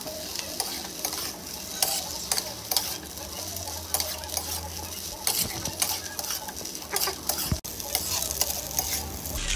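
Paneer pasta frying in a pan while being stirred, a close, steady sizzle broken by frequent scraping and clacking strokes of a spatula against the pan, with no speech.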